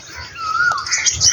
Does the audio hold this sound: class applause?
no